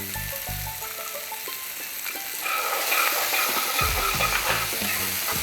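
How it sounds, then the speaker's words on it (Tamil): Onions with salt sizzle steadily in a hot pan while being sauteed, a close, continuous frying hiss with light stirring clatter that grows louder partway through. "வெங்காயம் நல்லா வதக்கிடலாம்."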